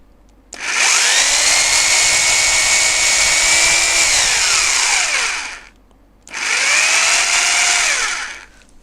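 A power drill fitted with an SDS spiral mixing paddle whirs at high speed for several seconds, then winds down. After a short pause it spins up again in a second, shorter burst.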